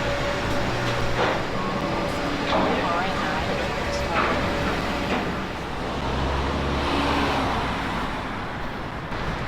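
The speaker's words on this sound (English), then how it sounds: "With so much traffic here," Steady road traffic noise from busy lanes near the Golden Gate Bridge, a continuous broadband rumble with passing vehicles swelling and fading, moderately loud throughout.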